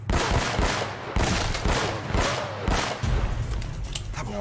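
Enemy gunfire in Uncharted: Drake's Fortune, loud rapid bursts of automatic shots with deep thumping impacts, repeating in several close volleys with short pauses between them.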